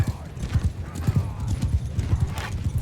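Horse hooves galloping in the medieval combat game Mount & Blade II: Bannerlord, a steady rapid clip-clop rhythm throughout with faint battle noise in the background.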